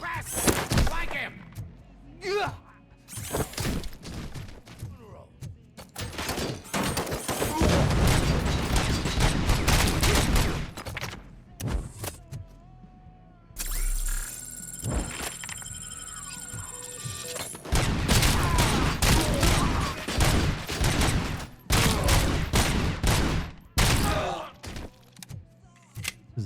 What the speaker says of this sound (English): Is that a shotgun?